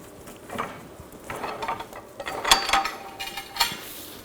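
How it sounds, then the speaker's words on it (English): Ratcheting torque wrench tightening a bolt on the front CV axle of a 2000-2006 BMW X5, giving a few irregular mechanical clicks and metallic clinks at close range, with no talking. "Now we're going to torque this bolt to 74 foot-pounds."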